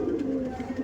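Andhra pigeons, including two males, give soft throaty coos in a short, faint run of repeated pulses close by.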